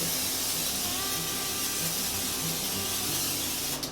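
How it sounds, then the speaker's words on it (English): A steady, close hiss of cooking spray sprayed onto a baking tray runs for a few seconds without pause. "I am going to get my cooking spray"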